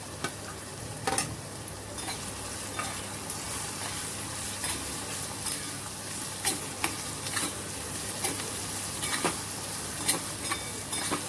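Cumin and green chili paste sautéing in a pan with mustard seeds, a steady close sizzle under repeated stirring, sharp clicks of the spoon scraping the pan now and then, with no talk.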